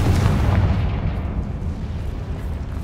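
A Confringo fire spell explodes in the Hogwarts Legacy video game, a loud, dense rumbling blast that dies away slowly over about three seconds, with no talking.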